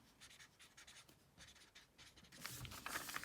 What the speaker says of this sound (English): I'm going to grab a green marker.